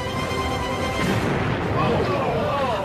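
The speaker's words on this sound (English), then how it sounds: "an explosion rocks the Cape" A Delta II launch vehicle carrying a GPS IIR satellite explodes seconds after liftoff from Cape Canaveral, a loud sustained roaring rumble with a deep boom swelling midway, broad and continuous under faint background voices.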